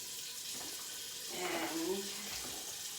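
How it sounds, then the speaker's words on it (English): Tap water runs steadily into a cooking pan, a continuous rushing stream heard close up, filling it for boiling a rotisserie chicken for soup. "you can put some water in the pan"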